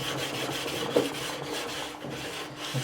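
A sanding block rubs steadily back and forth across the body of a 1983 Kramer Focus 3000 guitar, a continuous close rasping scrape with faint rhythmic strokes and no speech.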